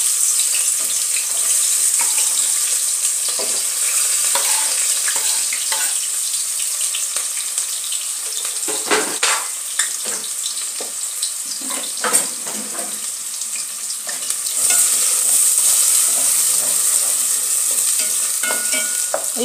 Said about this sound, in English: we'll add in our onions